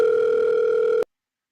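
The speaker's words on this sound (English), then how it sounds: "The phone's ringing." A telephone sounds a steady, loud electronic tone that holds evenly for about a second and then cuts off abruptly into silence.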